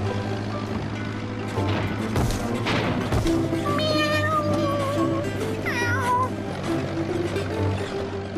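A cat meows repeatedly, rising and falling cries over a busy background hum with a few sharp knocks.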